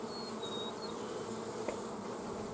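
Honey bees buzz at a beehive in a steady, dense drone close by, with a few individual bees whining past.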